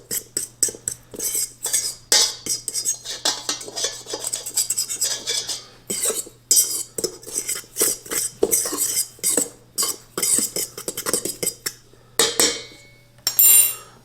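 Ingredients for keto egg-white protein bread are mixed in a bowl, a utensil scraping and clinking against the sides in quick rhythmic strokes, close and clear, with brief pauses and no talking.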